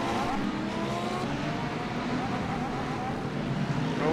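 A BMW Z4 race car engine roars loud and steady in the iRacing game at Silverstone, a sustained drone shared with other cars during an endurance race.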